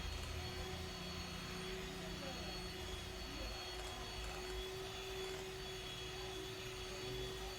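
An electric beater whirs steadily and evenly, whipping eggs and sugar for a Christmas plum cake, a constant motor drone with a steady tone and no breaks.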